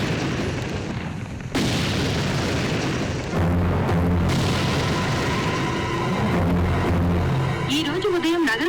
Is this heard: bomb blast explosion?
yes